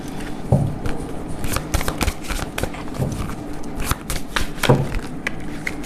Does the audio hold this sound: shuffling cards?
yes